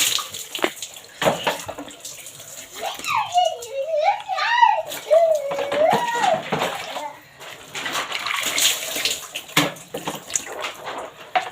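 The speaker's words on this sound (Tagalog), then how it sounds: "Ligo tayo guys, ang sarap maligo, ang lamig ng water." Water runs and splashes during a bath, a continuous rushing wash in the foreground while someone talks and makes sing-song sounds over it.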